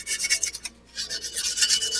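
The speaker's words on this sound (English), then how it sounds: "now I have sandpaper, and this is just a 600" 600-grit sandpaper rubbed by hand along a metal edge of a Toro snowblower part, a close, steady hissing rasp in quick strokes with one brief pause.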